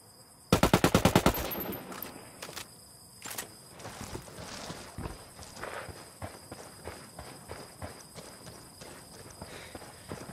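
Hostile gunfire in the video game Quarry: a sharp burst of rapid automatic shots near the start, then scattered single shots and rhythmic clattering beats continuing more faintly through the rest.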